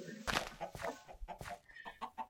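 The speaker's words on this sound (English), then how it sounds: "There's a lot of chickens up here." Several Minecraft video game chickens cluck in quick, overlapping bursts, loud and close, with a steady busy rhythm and no talking.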